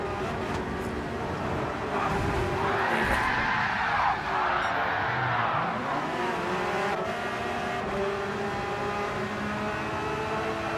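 Race car in Gran Turismo 7 accelerating hard, a loud sustained engine roar with rising revs and tire squeal, continuous throughout with no speech over it.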